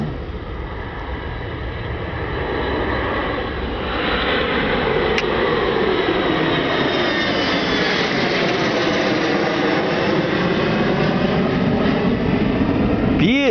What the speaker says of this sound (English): Beautiful takeoff.